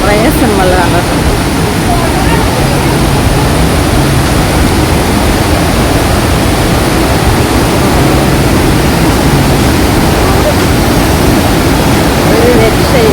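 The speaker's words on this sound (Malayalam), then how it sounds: "പാല് പോലെ ഒഴുകുന്ന വെള്ളച്ചാട്ടം" Athirappilly waterfall rushes in a loud, steady, unbroken roar of falling water that fills the whole clip, heard close up with no voices.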